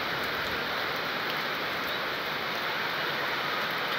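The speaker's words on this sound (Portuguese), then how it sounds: "Muita chuva aqui no sertão da Paraíba," Heavy rain falling steadily in the Paraíba backlands of Brazil, a dense, constant hiss of downpour on surfaces with no breaks and no voices, moderately loud throughout.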